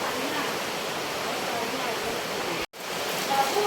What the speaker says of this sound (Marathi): बाहेर तर आडच पाऊस पडतो